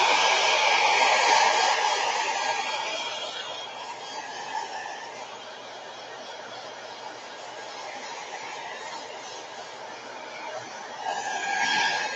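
A loud hair dryer blows steadily to dry pan pastel on a gelli plate, a continuous broadband whoosh that eases slightly midway and swells again near the end.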